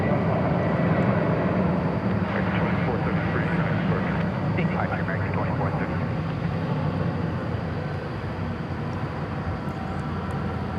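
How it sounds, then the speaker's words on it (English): American Flight 80 to London, a Boeing 777 airliner at DFW Airport, gives off a loud, steady jet roar that fills the whole stretch, with people talking over it. "That was American Flight 80 going to London."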